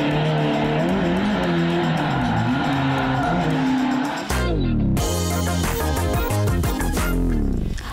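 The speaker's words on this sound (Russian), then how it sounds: "Красноярцы пожаловались на бесконечный дрифт рядом с их домами." A car drifts in a shopping center parking lot in Krasnoyarsk at night, with a loud, close engine roaring and revving through long, wavering tire squeals and a brief lull before the skid resumes.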